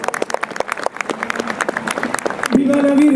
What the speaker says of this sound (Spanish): Un fuerte aplauso a la Madre de la Misericordia.